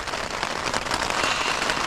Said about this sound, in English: It's just been torrential rain and wind.